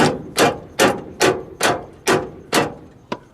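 A hammer strikes metal on a car during a budget garage repair, seven evenly spaced loud, sharp blows about half a second apart, followed by a lighter final tap, with no talking.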